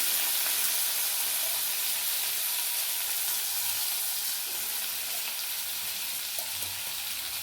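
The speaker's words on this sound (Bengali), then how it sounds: "আলুটা দিয়ে দিলাম।" Potato pieces sizzle and fry in hot oil in a pan for a vegetarian dalia dish, giving a steady, close, continuous crackling hiss with no talk.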